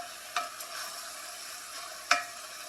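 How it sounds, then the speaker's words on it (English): Ground meat pressed flat and browning in a pan for spaghetti, a steady soft sizzle with two faint utensil taps, quiet and close, no talking. "Time to smush the meat as flat as I can to start browning it"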